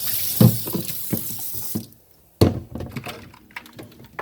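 Water from a tap splashes and runs over a Hoover FloorMate floor cleaner filter during a rinse, with bursty close splashing, a brief pause, then renewed flow and dripping.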